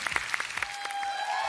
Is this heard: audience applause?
yes